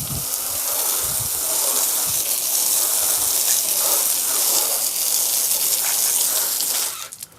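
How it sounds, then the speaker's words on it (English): Steady hose water spraying and rinsing a car wheel, a loud continuous broadband gush that runs almost unbroken before cutting off at the end. "Now that we've rinsed the wheel off with just some water from the hose"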